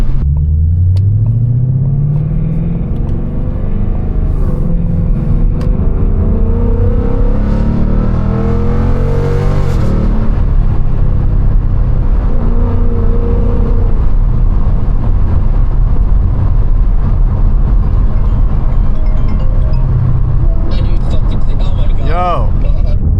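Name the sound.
straight piped 10 speed Ford Mustang GT driving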